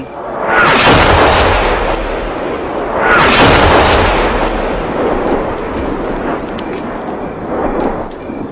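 Artillery shells explode near a hospital during the war on the Plain of Jars: heavy, rumbling booms strike at about one and three seconds, and a loud, continuous roar of distant blasts fills the rest, with no voices.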